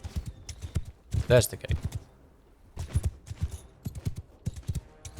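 Horse hooves clip-clop in the Mount & Blade II: Bannerlord video game, a quick rhythmic series of close hoofbeats interrupted by a pause, with someone talking over them.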